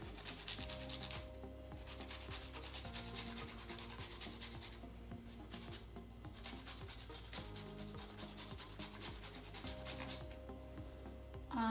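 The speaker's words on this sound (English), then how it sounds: "I'm going to grate the garlic" Garlic is rubbed against a kitchen grater in quiet, close, repeated rasping strokes, soft and continuous with no speech.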